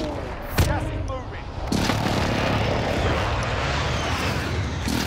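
A helicopter roars overhead in the shooter Call of Duty Modern Warfare, a loud, dense, continuous rotor and engine wash that swells partway through, with sharp gunfire bursts near the start.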